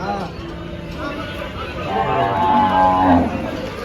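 A Gir cow moos at a busy cattle market in Dhule, a long rising low bellow building toward the end, heard over crowd murmur and market talk.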